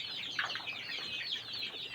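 Young chicks, sold to order, chirping and peeping in a dense, continuous chorus of high, overlapping calls, close by with no pauses and no talk.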